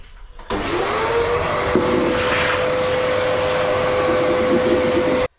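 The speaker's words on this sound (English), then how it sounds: "Literally do that, get my Hoover." A Hoover vacuum cleaner sucks up small bits of plaster along a room's edge where skirting board is being fitted, switching on with a loud, steady whine and drone that holds close and constant for about five seconds, then cuts off.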